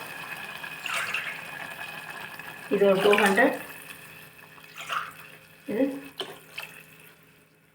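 Water is poured into a cooking pot for millet biryani in a home kitchen, coming in a few short splashing bursts between spoken remarks from a woman measuring it out.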